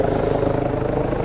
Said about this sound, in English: as you can see, we've got a helicopter coming in